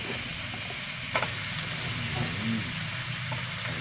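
Blanched spinach stir-fried in a hot oiled pan, a steady close sizzle running throughout with a few scraping stirs, while a voice talks over it.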